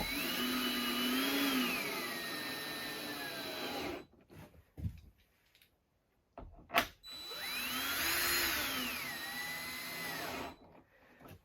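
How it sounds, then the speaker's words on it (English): Cordless drill driver backing out hood bolts on a 2018 Ski-Doo Expedition Sport snowmobile, two sustained whirring runs with rising and falling motor pitch, separated by quiet handling clicks and knocks. "So much nicer to do this with a driver here, just a drill."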